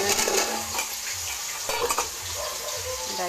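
Fish sizzles in hot oil with coconut nearby, a continuous crackling fry broken by sharp scrapes and clanks of a utensil against the pan, fairly close and without talk.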